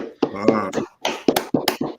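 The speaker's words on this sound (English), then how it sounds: "Give the Most High a hand clap" A few scattered hand claps at a religious new-moon gathering marking the Hebrew new year, mixed with voices calling out and sounding close and uneven.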